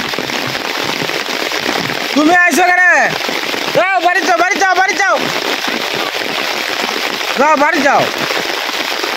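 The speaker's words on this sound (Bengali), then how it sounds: "প্রচন্ড বেগে বৃষ্টি হইতেছে।" Heavy rain pours down steadily at a village home during a thunderstorm, a dense, constant hiss filling the whole stretch while a voice repeatedly calls out over it.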